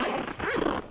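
A zipper runs along a Vanquest Javelin 2.0 VSlinger sling bag, giving a continuous close raspy pull lasting about a second, with no talk.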